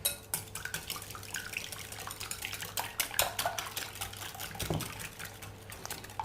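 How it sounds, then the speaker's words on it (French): Whisk clattering briskly against a bowl while beating a seasoned salmon tart filling, a busy run of close, uneven metallic taps and scrapes over a faint steady kitchen hum, with no talking. "battre le tout à l'aide d'un fouet"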